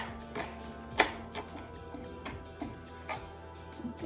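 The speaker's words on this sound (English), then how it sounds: "So again, the shallots you want to chop very finely." A knife finely chops shallots on a board, sharp irregular taps spaced about half a second apart, close and moderately quiet, with no talking.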